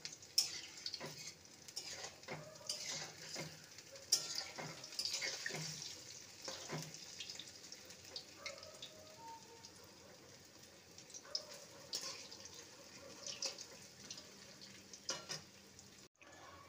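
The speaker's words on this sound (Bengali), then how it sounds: "পকোড়াগুলো ভাজা হয়ে গেছে, একদম লাল করে ভেজে নিয়েছি।" Radish pakoras frying in hot oil give a soft, steady sizzle, faint and close, broken by occasional light clinks and scrapes of a utensil.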